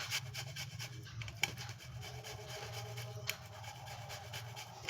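Boiled sweet potato mashed with pepper, cardamom and flour is rubbed smooth by hand, giving a soft, continuous rubbing and squishing close by, with a couple of faint taps and no talk.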